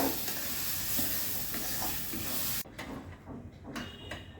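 Lentil paste cooking down in a frying pan sizzles steadily, then gives way to spatula scrapes and stirring knocks against the pan, close and moderately loud.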